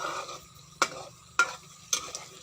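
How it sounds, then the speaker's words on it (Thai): Chili paste with shallots and garlic stir-fried in vegetable oil, a low steady sizzle punctuated by three sharp, evenly spaced spatula strikes against the pan, close up. "ถ้าผัดพริกไม่สุกก็ไม่อร่อยนะคะ ผัดน้ำมันนะคะ ใส่น้ำมันพืช"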